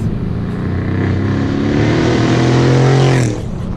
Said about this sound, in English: it has straight pipes and no mufflers